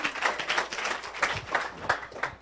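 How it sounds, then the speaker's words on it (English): Audience applause after startup pitch presentations at a Startup Weekend event in Los Angeles, a steady crowd of clapping hands with irregular louder bursts throughout. "So just everyone should give yourself a round of applause."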